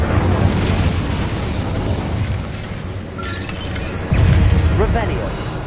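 The Incendio fire spell in Hogwarts Legacy bursts out as a loud, roaring fiery blast over continuous combat noise, with a heavy surge of flame near the end and a voice calling out amid the action.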